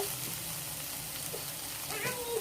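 Onions with chili powder and salt frying in a pan for a broken-egg omelette masala, a steady close sizzle with occasional light stirring scrapes.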